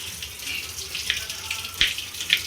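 Tap water runs steadily into a sink while fresh mint leaves are washed, a close, continuous splashing hiss with a few brief louder splashes.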